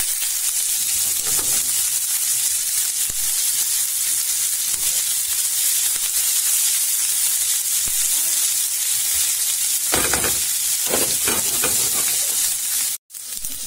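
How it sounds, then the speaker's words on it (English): Bacon lardons sizzle and fry steadily in a pan, a dense continuous crackle with occasional stirring scrapes, close and loud throughout, with no talking. "So I'm going to cook off the bacon lardons, and I'll use the fat from that to cook off my eggs and my spinach"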